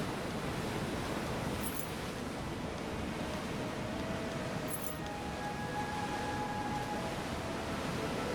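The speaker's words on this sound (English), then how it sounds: "Yeah, there's waves." Ocean surf rolls onto a beach in the survival video game Under a Rock, a soft, steady wash of waves and wind with faint chimes, low in level and without speech.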